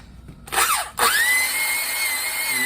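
A cylinder hone grinds inside the bore of a Kohler K321 engine block, lubricated with kerosene, starting with a rising whine, a brief dip, then settling into a loud steady high-pitched whir close by.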